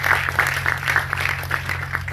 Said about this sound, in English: Big round of applause for you guys.